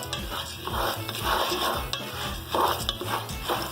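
Popcorn kernels are stirred steadily in a pot over high heat before the lid goes on, giving a continuous close scraping and rattling with faint sizzling underneath, repeating in rhythmic strokes.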